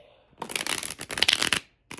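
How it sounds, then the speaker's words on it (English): Bent playing cards being bridge shuffled up close, a quick dense riffle of flicking card edges lasting about a second, then a brief final snap. "let me see if I could bridge shuffle and maybe that'll bend it back a little bit"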